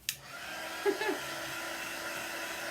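An embossing heat gun blows a steady, airy whoosh across a freshly painted craft laundry sign, starting with a sharp click and running on at a fairly quiet, even level with a few small knocks partway through.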